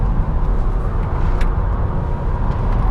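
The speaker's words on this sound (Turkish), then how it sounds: "Yol sesi daha baskın." Steady, loud road noise from inside a Citroen C3 Aircross at about 120 km/h on the highway, a constant low rumble and tyre roar without breaks.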